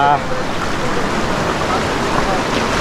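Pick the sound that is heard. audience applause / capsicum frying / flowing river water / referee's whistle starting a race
flowing river water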